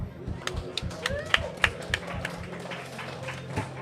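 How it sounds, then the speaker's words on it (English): Applause from the audience at a grappling championship event, scattered claps and taps over a low murmur, moderately close, with voices briefly rising above it. "Let's give RJ a round of applause"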